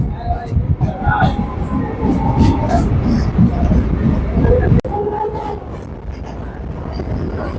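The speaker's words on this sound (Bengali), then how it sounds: "এই পুরনো ডিজেল ইঞ্জিনটি দেখুন শর্ট করে কিন্তু এই ইঞ্জিনটা দেখতে পাওয়া যায় না এগুলো এখন শান্টিং ইঞ্জিন কিছু রেক টেনে নিয়ে আসছে" An old diesel shunting locomotive hauls rakes on the Kolkata port line near Sealdah. Its loud, steady rumble and rattling wagons roll past close by, and voices can be heard talking over the noise.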